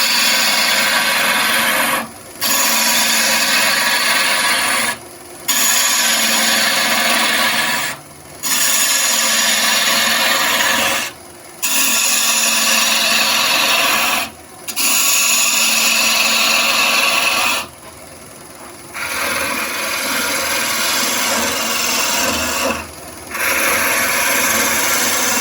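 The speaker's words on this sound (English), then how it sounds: "I'm doing roughing cuts, and then I'm using the gouge as a skew." Bowl gouge cutting a wooden goblet spinning on a lathe, a steady loud rasping hiss broken by short regular pauses as the tool lifts off between passes.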